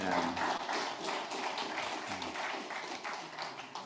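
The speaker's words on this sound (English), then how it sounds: "A round of applause for these ladies." Modest round of applause from an audience at a congregation presentation, fairly quiet, steady clapping continuing throughout.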